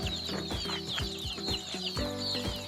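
Hens in a bamboo-built poultry farm shed cluck in a busy chorus of repeated short calls, fairly near and continuous, with no talk.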